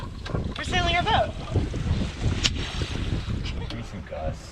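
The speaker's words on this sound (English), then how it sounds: "We're sailing our boat." A small sailboat moves slowly through the water in light wind, with steady wind buffeting and water wash close to the microphone while people talk over it.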